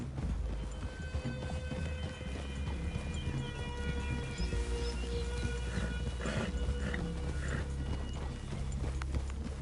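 Horse hooves clip-clop steadily in Red Dead Redemption 2, a continuous rhythmic trot of several horses over a busy outdoor game soundscape with no talk.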